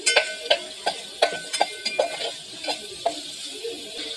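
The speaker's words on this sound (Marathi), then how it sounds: "त्यामुळे इथे ना हा कांदा असा मस्तपैकी परतून घ्यायचा आहे." Onion is sautéed in a pan for dum biryani, with a light sizzle and a steady run of sharp spatula taps and scrapes against the pan. The sounds are close and quiet, with no talking.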